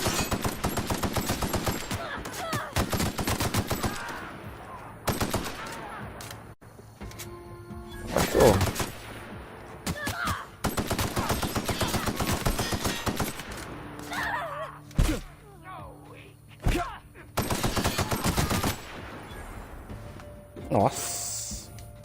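Gunfire rattles from a weapon in The Outer Worlds, fired in long automatic bursts and single loud shots separated by short pauses, with game sounds in the gaps.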